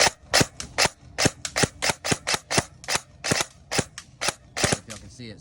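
A CZ Scorpion Evo airsoft gun with a V3 Leviathan installed fires a rapid, steady string of sharp, close snapping shots, about three per second, while misfeeding, with no talking.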